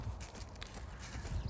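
A pony's hooves clip-clop at a walk, soft and fairly close, with steady low thuds and no talking.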